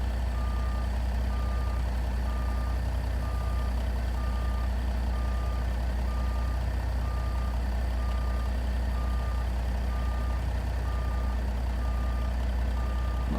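Reversing beeps from a Peterbilt cabover truck in American Truck Simulator, a steady evenly spaced series of beeps over a constant low engine idle rumble, continuous and without talk.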